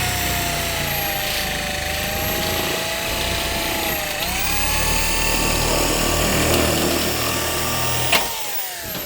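A power tool cuts a Metal Sales Image II metal roofing panel to trim off the hem, giving a loud, continuous high whine with shifting pitch for several seconds and a sharp click near the end.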